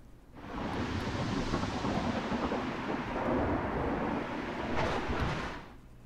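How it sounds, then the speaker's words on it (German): A thunderstorm in the video game Gas Station Simulator swells into a broad, loud rumble of thunder mixed with rain and wind. It holds for several seconds before fading out. "Warten wir, bis der Sturm durchgezogen ist."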